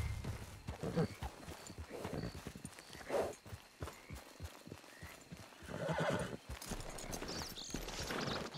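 Horse in Red Dead Redemption 2 Online, with steady hoof clip-clops on a trail and a few clear neighs and whinnies over ambient game background.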